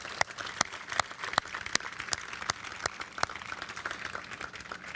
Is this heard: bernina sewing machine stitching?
no